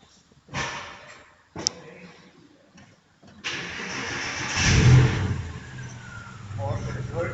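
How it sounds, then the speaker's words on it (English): A 2006 Porsche Boxster cranks and fires up after a few brief clicks, then settles into a steady running idle with a swell of revving, recorded close by. "Right now we will start the Porsche. It's a Boxster from 2006"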